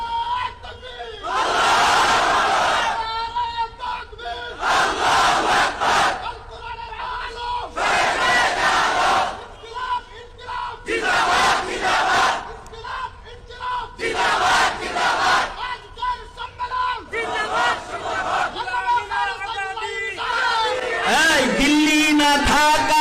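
A large crowd at a funeral prayer and street rally repeatedly roars the takbir, Allahu Akbar, in loud massed bursts answering a lead caller, each chant separated by brief pauses.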